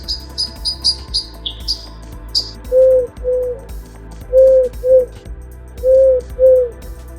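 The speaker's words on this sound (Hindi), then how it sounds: "पक्षियों की सुबह सुबह की शुरुआत में पक्षियों की पहली आवाज सुनाई देती है।" Forest birds calling at dawn in a temperate forest: quick high chirps and whistles early on, then pairs of soft low coos repeating in rhythm, fairly close and clear.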